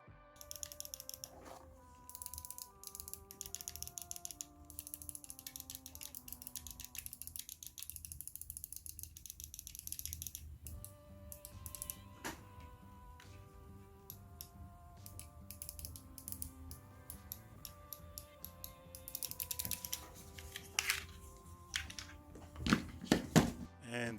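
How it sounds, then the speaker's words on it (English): Flydigi Stinger 2 mobile game controller triggers click repeatedly, quick dry plastic clicks in irregular bursts, close and fairly quiet, with a brief pause midway. "So let's hear them clicking."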